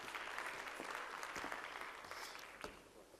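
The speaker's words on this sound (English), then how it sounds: "Can we please give Vusi a warm round of applause," Audience at a panel discussion on financial institutions in mining gives a panelist a warm round of applause, steady dense clapping that holds for a few seconds and thins slightly toward the end.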